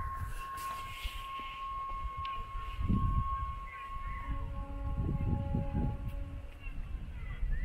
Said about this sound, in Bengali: টয় ট্রেনের আওয়াজ কি পেলেন?